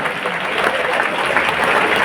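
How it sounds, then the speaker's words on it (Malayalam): A youth meet audience in Palai claps in a continuous, even burst of applause, many hands together at a steady loud level. "കൈയടിക്കാൻ തോന്നുമ്പോൾ ശരിക്കും കൈയടിക്കണം."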